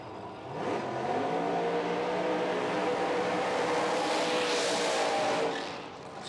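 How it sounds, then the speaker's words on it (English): Pro Mod drag race cars doing burnouts at a drag strip during a street nationals event, a sustained loud engine roar with squealing tires that swells and then fades after several seconds. "Weatherford and Snyder completing their burnouts"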